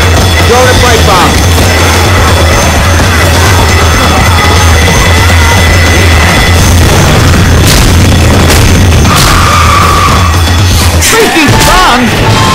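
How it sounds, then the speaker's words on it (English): Pipe bomb explosion in the Left 4 Dead 2 video game, loud booms near the end amid a dense, constant roar of chaotic action, with people shouting throughout. "Throw the pipe bomb!"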